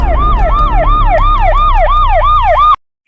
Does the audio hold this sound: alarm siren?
yes